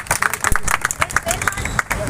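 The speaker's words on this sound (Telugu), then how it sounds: "ఒకసారి అందరు బిగ్ క్లాప్స్" A crowd of attendees claps together at a lucky draw event, a brisk patter of applause mixed with murmuring voices and background chatter.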